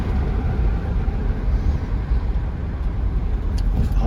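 Engine of a 2003 Toyota Avalon XL in poor condition during a test drive, a steady low rumble with road noise heard from inside the car, with no talking.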